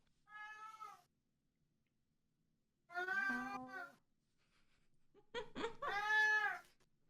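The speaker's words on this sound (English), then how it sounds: "it must drive him insane having his cat screaming at him" A pet cat meows three times with long pauses between, first a short clear cry, then two louder drawn-out wails, the last led by a few sharp clicks and bumps.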